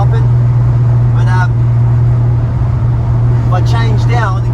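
A car engine fitted with triple Weber carburetors runs at low revs with a steady low drone that hops and sputters unevenly, heard from inside the car with brief talk over it.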